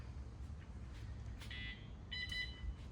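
A folding power wheelchair in neutral gives two short electronic beeps, faint over a low steady hum, a second apart.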